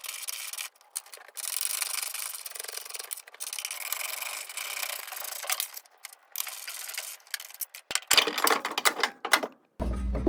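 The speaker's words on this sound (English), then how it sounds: "I'm going to be using a 15mm to take these top bolts out" Metal scraping and ratcheting from a 15mm wrench backing out the top strut bolts on a 1994-2004 Ford Mustang front suspension, close and steady with short pauses, ending in a brief low thump.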